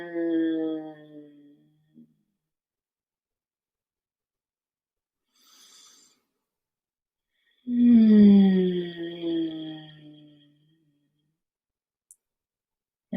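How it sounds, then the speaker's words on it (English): A person makes a long, low humming vocalization on an exhaled breath, two sustained voiced hums separated by quiet pauses, close and clear with no other sound. "change the breath to an HM"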